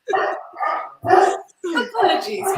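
A dog barks several times in short bursts over a group conversation, loud and close, with yips and whimpering tones mixed into the barks.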